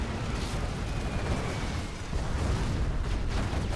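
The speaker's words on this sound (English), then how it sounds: "Size now coming in with his Anthrax bomb" A bomb strike in a real-time strategy game lands as a dense, sustained explosive rumble that stays loud and heavy throughout, with no voices over it.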